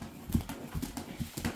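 A donkey's hooves clip-clopping as a story sound effect, a steady series of hollow knocks at a walking pace, fairly close and alone.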